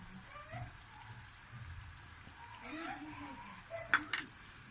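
Ghee hits melted sugar in a pan on low heat and sets off a faint, soft sizzle. A couple of brief sharper clinks come near the end, with a little background voice.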